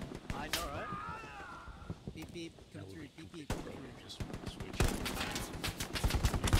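Gunfire in the World War II shooter Hell Let Loose, fought around Carentan: scattered shots and a denser burst of rapid fire toward the end, heard under frequent voice chat from players.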